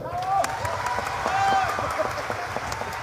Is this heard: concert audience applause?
yes